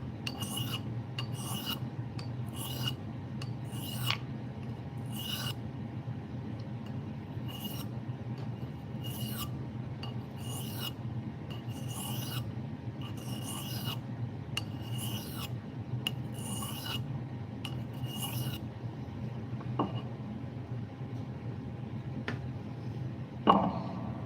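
A carving tool scraped across a 400 grit sharpening stone in short, regular rasping strokes, about a dozen close strokes at a steady rhythm over a low background hum, then a few soft handling clicks.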